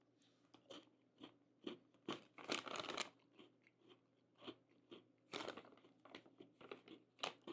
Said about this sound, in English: Very crunchy.